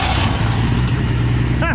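Engine of a 1962 Ford Falcon Tudor, abandoned and being revived, cranking over with a loud, steady rumbling churn close by, ending abruptly.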